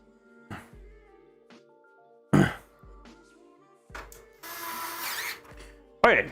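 Screwdriver driving screws while a radiator is mounted inside a Corsair 5000D PC case, heard as a few short separate bursts of tool noise and clicks with quiet gaps between them, close up, with occasional voice.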